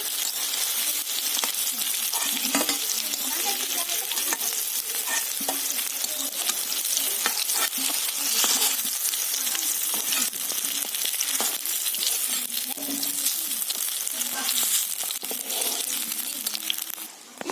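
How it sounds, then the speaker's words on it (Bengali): Drumstick flower and prawn pakoras fry steadily in hot oil, a dense continuous sizzle with occasional stirring scrapes, close and loud throughout without speech. "বাকি যে মিশ্রণটা রয়েছে এটাও একই রকমভাবে ভেজে নেব"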